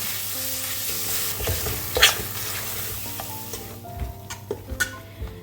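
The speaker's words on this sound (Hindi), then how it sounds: "स्लो गैस पे मीडियम फ्लेम पर आप मावे को भी अच्छे से भूनिए" Mawa (khoya) roasting on a medium flame in a pan, a continuous soft sizzle under repeated scraping strokes of a spoon, with sharper clinks and taps of the utensil against the pan near the end.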